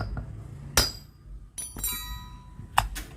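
A hammer strikes the centre of a lawn mower clutch to knock it free, giving a few sharp metallic blows spaced irregularly over a few seconds, close and clear.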